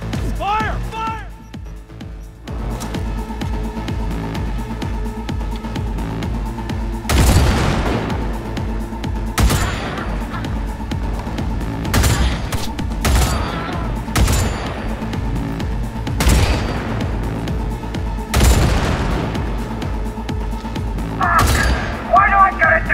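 Gunfire and explosions in Cyberpunk 2077 during a combat mission, heavy booms and bursts of shots recurring every couple of seconds over a dense game soundtrack, loud and close, with brief voice lines.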